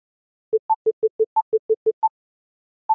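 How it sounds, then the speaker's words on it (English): Metronome app built in Pure Data with libPD clicks short electronic beeps, higher accent tones on the main beat and lower even subdivision beeps between them, in a quick steady rhythm, clean and alone. "you can hear the main beat at the BPM rate, and then the subdivisions are even subdivisions of that particular beat"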